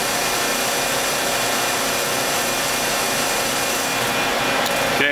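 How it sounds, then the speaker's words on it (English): A 700-ton hydraulic slab side press closing at low pressure, a dense continuous grinding hum with a broad hiss, loud and steady throughout, ending in a brief clunk and creak. "Press is closing now in low pressure."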